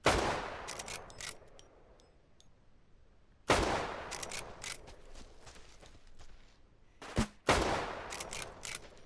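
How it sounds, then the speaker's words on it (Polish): Gunfire in the survival shooter game Deadside: several sharp, loud shot bursts with rapid follow-up cracks, separated by quieter stretches of faint ambient noise and scattered clicks. "To były straszne strzały"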